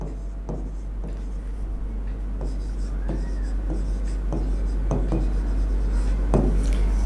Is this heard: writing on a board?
yes